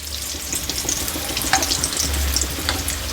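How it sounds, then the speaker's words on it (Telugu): Purnam boorelu, sweet dumplings dipped in batter, frying in hot oil, giving a steady close sizzle with a few brief stirring clinks, no voices. "చిన్న స్పూన్ సాయంతో మనం ఫ్రై చేసుకోవాలి."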